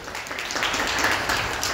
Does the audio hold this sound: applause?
yes